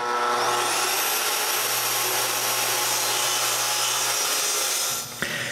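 Wooden frame of a homemade wooden band saw being cut with a saw, a steady continuous cutting drone close up that runs alone and stops abruptly near the end.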